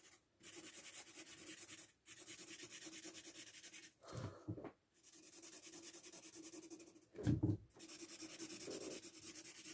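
Colouring in violet on paper with a felt-tip or pencil, a soft continuous rubbing scratch in long strokes with brief pauses between, close and quiet, with no talking.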